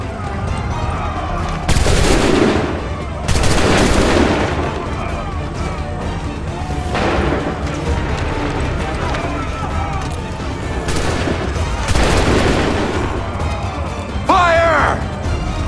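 Musket volleys in Assassin's Creed 3 ring out as several loud, broadband bursts spaced a few seconds apart, laid over a constant din of battle, with shouted commands heard across the scene.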